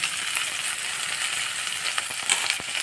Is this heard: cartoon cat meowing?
no